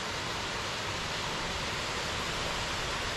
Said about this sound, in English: you come to a pretty waterfall